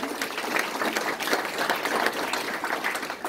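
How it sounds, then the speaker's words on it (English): An audience at an art presentation in Copenhagen claps in a steady, dense round of applause that holds at an even level throughout. "Would you give Alex a big round of applause"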